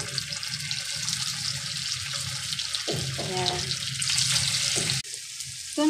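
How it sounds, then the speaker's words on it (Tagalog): Tofu (tokwa) frying in a pan of oil for lumpiang togi, a steady bright sizzle and crackle that shifts when pieces are moved, with a brief clatter and a change near the end, close and moderately loud. "Ito na po ang ating tukwa. Yan, iprito muna natin."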